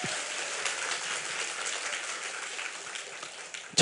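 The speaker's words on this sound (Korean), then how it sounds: "우리 하나님께 박수로 영광 돌리겠습니다." A church congregation at a Friday worship service claps together in a steady, dense roar of applause that fills the hall, then thins out at the end.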